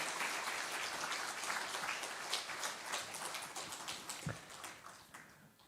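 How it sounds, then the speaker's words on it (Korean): A church congregation gives a warm welcoming round of applause for a guest preacher, the clapping fairly faint and distant, thinning out gradually over several seconds. "우리 나오실 때 뜨거운 환영의 박수 부탁합니다"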